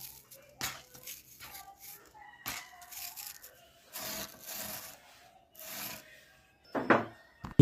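Abrasive powder of crushed pebbles rubbed into a wooden surface for sharpening a chisel, giving repeated short scraping, rasping strokes, close and moderately quiet, with pauses between bursts.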